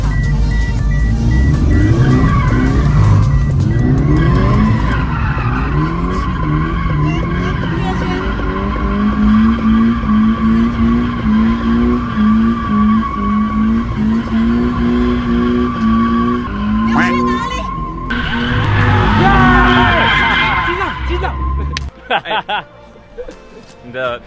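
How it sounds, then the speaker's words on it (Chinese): Cars drift around a track at a Taiwanese drift training event, engines revving and tires squealing in long, loud skids, with voices talking over the roar. "准备看谁漂移的比较漂亮。"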